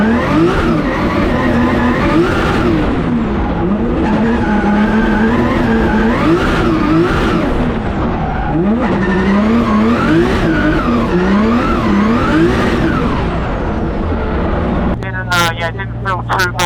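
Race car doing a burnout in a burnout box, with the engine revving hard in rising and falling waves and tyres spinning loudly, close and continuous, ending in a sharp cut-off.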